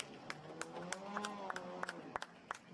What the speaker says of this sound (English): Applause from the team.